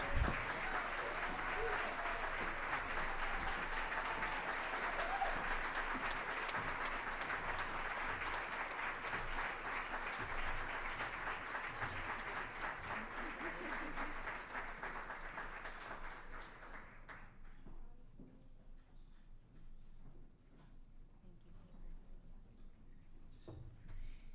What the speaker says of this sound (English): Continue your applause and welcome to the stage, Deborah Brandt.